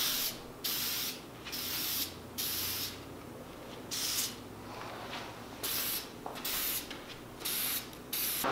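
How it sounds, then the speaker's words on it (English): Aerosol adhesion promoter misted in repeated short bursts onto plastic Silverado tow mirror covers, each hiss a second or so long with brief pauses between, close and steady, no talking. "What I'm gonna do is go ahead and do one light mist over it"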